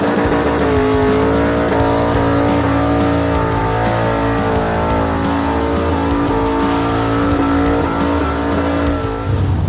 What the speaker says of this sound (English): Are we ready for a skid?